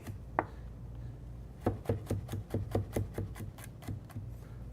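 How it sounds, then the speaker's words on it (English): Knife slicing an onion on a cutting board: a single early chop, then a steady run of about a dozen crisp, evenly spaced cuts knocking against the board, close and clear with no talk. "Curl your fingers over and give it a first initial slice up."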